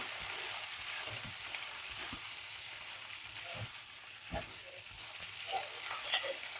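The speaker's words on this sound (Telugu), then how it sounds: "మంచిగా అంతా ఒకసారి కలపాలి. కారం ఒకే ప్లేస్ లో ఉండకుండా ఇలా అంతా కలిపేసుకోవాలి." Chili powder being stirred into fried okra in a pan, a soft continuous sizzle with scattered light scrapes of the spoon, close and fairly quiet, no talk.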